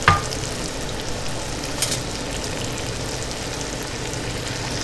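Fish fries in peanut oil in a pan on the stove, a steady close sizzle and crackle that holds constant throughout, with a small clatter at the start and a fan whirring in the background.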